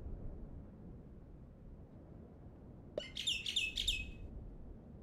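A woodpecker unit in Super Auto Pets gives a sharp click, then a quick burst of bright, twittering chirps lasting about a second over a quiet low background.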